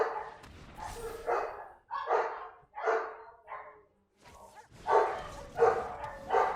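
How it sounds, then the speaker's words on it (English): Several dogs bark in a house as a family member arrives home, with a run of short loud barks, a brief pause, then another burst of barking close by. "the dogs, you can tell one of the family members are back home"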